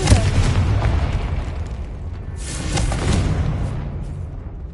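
A Confringo fire spell explodes in Hogwarts Legacy, a loud rumbling boom with sustained crackling roar over several seconds, swelling again near the end.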